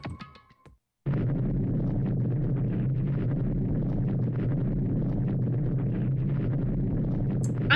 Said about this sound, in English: I'm going to assume that is the noise of the door moving.